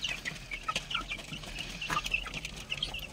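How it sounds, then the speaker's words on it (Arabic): Backyard chickens cluck softly and continuously nearby, with a few higher chirps and squawks rising above a low murmur. "الفراخ اللي مش بتكبر دي مش عارفه هتكبر امتى"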